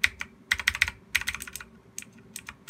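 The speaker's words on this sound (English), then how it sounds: "It's very clicky. It's a very clicky keyboard." Redragon K552 Kumara mechanical keyboard with blue switches typed on in quick bursts, sharp clicky keystrokes close up, loud and alone.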